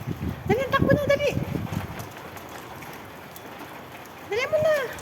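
Heavy rain pours steadily outdoors as a soft, continuous hiss, with excited voices calling out over it at the start and again at the end.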